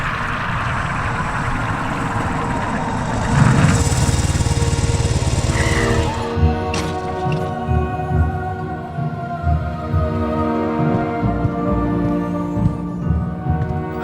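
A motorcycle engine rumbles loudly in a Harry Potter GameCube video game cutscene, a strong steady roar that surges and then settles into a lower, sputtering idle.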